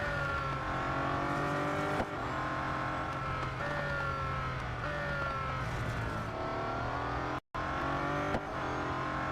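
Bugatti Divo race car in the Real Racing 3 video game, its engine droning loud and steady with rising and falling revs as gears shift, plus a brief dropout near the end; no voices.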